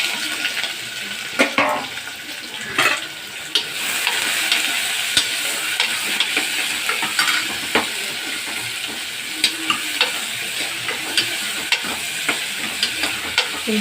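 Onions fry in hot oil with cinnamon, cloves and fennel seeds, a loud continuous sizzle close by, broken by repeated scraping stirs and clinks of a spoon against the pan.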